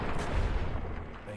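A gunshot in the video game Fallout: New Vegas, one loud, dense burst that fills the short clip with a low boom and a fading rumble. There is no talk.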